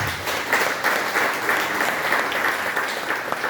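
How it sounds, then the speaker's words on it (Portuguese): A church congregation applauds steadily throughout a worship service, a dense, continuous clatter of many hands clapping together at close range with no pauses. "Você pode aplaudir o Senhor Jesus."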